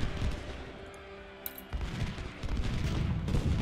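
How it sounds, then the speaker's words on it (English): Canister shot volleys from Civil War artillery in Ultimate General: Civil War, a faint crackling fusillade of many overlapping shots at a distance, with a sustained tone and a brief high burst midway. "There was some minor canister shot, not a big issue though."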